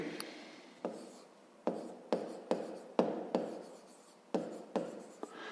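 A pen writes by hand on paper during a fifth-grade maths exercise, with sharp taps as each stroke starts followed by scratchy sliding, repeated steadily and close up with no talking.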